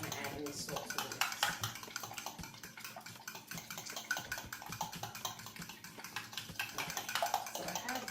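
Bread pudding mixture is stirred in a bowl, with quiet scraping and clinking of a utensil against the bowl and soft wet swishes in an uneven rhythm, close but faint.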